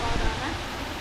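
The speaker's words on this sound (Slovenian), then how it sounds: "Zanimiv, lep slap." A small waterfall running with unusually little water gives a steady broadband rush of falling water, close and continuous, with a brief louder burst near the start.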